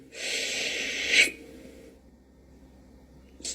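Forceful breathing through the nose during a spiritual breathing exercise: a sustained, airy nasal exhale lasting about a second, ending abruptly, followed by quiet and a brief second sniff near the end.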